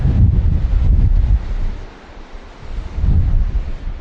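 Heavy surf of a rough sea rolls and crashes in surges at Stonehaven, Scotland, with strong wind buffeting the microphone throughout.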